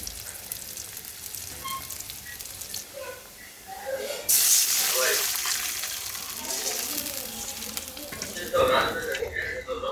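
Sarputi fish curry with new potatoes and tomato cooks in a pan, crackling and sizzling close by. The frying swells sharply into a loud hiss partway through, with faint voices in the background.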